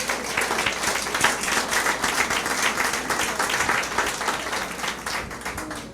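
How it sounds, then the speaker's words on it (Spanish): A church congregation applauds during a Sunday service, a steady, dense wash of clapping from many hands that holds at an even level throughout. "Denle un aplauso al Señor Jesús."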